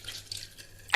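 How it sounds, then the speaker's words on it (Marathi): Water poured into a pressure cooker in a home kitchen, heard as a short, quiet trickle with a sharper splash near the end. "इथून अशी पाणी टाकणार कुकर मध्ये."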